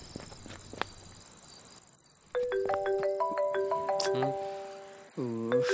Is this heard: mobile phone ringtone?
yes